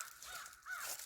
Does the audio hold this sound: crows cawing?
yes